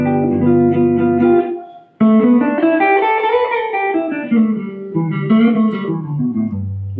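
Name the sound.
guitar playing major pentatonic over dominant 7 chord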